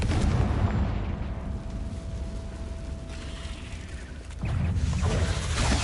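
A Confringo fire-blast spell in Hogwarts Legacy erupts as a booming explosion with a rumbling tail, settling briefly before a second heavy blast swells up near the end.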